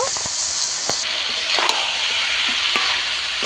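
Chicken skin and spices fry loudly in a pan, a dense sizzle broken by scraping stirring strokes and occasional sharp spatters, close and continuous.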